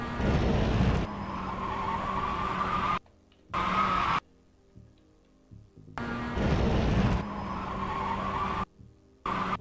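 A Mazda MX-5 on slicks slides and skids in the iRacing sim: loud tyre squeal over a droning engine, broken up by abrupt cuts to near silence before the screech and engine return.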